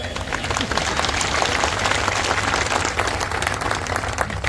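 Steady, dense applause from a large crowd at an outdoor political rally in Shadhaura, Ashoknagar, sustained and loud throughout with a few faint voices buried in the clapping.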